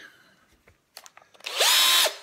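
A power drill starts after some small handling knocks and runs steadily at a loud, even whine for about half a second before stopping, close by with no talk.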